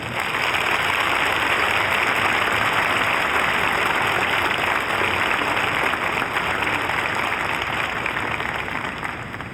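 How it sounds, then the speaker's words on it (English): A large crowd at a university graduation ceremony applauds, a loud, dense, continuous wash of clapping that holds steady for nearly ten seconds before easing slightly at the end, no speech. "Would the graduates join me in applauding the family, the faculty, and the staff here assembled."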